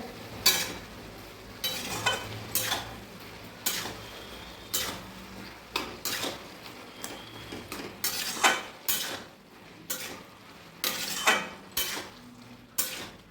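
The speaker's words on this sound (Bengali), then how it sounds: "গ্রেড করা আদাটা দিয়ে দেবো সব সবজির সঙ্গে একসঙ্গে মিশিয়ে নেবো" Grated ginger gets stirred into bottle gourd and other vegetables in a pan, with repeated spoon-on-metal scrapes and clacks in a steady rhythm over a faint sizzle, and nobody speaks.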